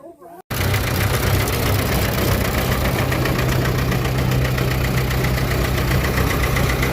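A tractor engine runs with the PTO engaged at a farm equipment sale, a loud steady mechanical drone with a rhythmic knocking hum that starts abruptly after a brief pause and holds to the end.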